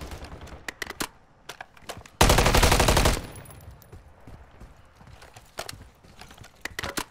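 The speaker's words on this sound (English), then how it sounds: "Changing mags." A weapon magazine reload in Call of Duty: Modern Warfare III: a loud, dense burst of mechanical clatter about a second long, set amid scattered sharp clicks and taps over a quieter game background.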